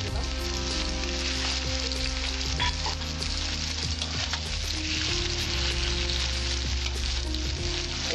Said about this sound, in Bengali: এইবার আমি 1টা গোটা বড় বড় সাইজের পেঁয়াজ আমি দিচ্ছি